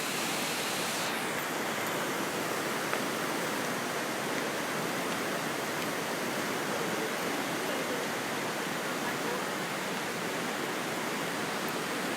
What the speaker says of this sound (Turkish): Şimdi Düden Şelalesi'ndeyiz biz.